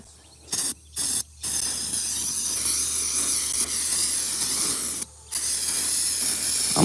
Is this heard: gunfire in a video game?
no